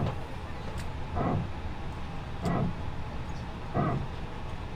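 Airbus A320neo power transfer unit in Microsoft Flight Simulator barking in three evenly spaced, low growling pulses about 1.3 seconds apart, each rising briefly over a constant cabin hum.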